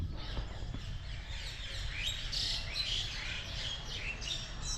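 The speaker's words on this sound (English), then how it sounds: "And all the while, the birds singing hymns" Birds sing and chirp under the Bodhi Tree at Bodh Gaya, a cluster of quick bright tweets and trills at moderate distance over a soft, steady outdoor hush.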